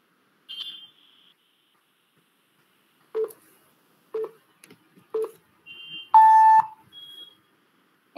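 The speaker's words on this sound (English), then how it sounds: "start speaking after the beep sound" A short series of electronic beeps and tone blips sounds before someone begins speaking in an online presentation, with one brighter, longer tone near the end; the signals are spaced apart by near silence.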